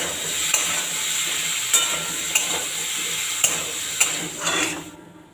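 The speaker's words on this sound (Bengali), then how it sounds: "লবণ আর হলুদ দিয়ে আলুটা ভেজে নেব একটু" Potatoes fry in oil with salt and turmeric, a dense steady sizzle punctuated by regular sharp spatula knocks on the pan, fading out at the end.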